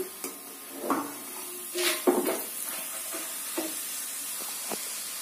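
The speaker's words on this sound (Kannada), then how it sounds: "ಒಣ ಕೊಬ್ಬರಿನು ಅದು ಸ್ವಲ್ಪ ಕಂದು ಬಣ್ಣ ಬರೋ ತನಕ ಫ್ರೈ ಮಾಡ್ಬೇಕಲ್ಲಮ್ಮ" Dry coconut frying in a pan until brown makes a faint steady sizzle and hiss, with a few louder stirring scrapes early on, then settles into a quiet continuous fry.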